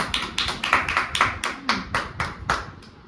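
Repeated hand claps in a Gujarati kachori and Thums Up eating challenge, about eight sharp, evenly spaced slaps close by, roughly every third of a second, with no talking.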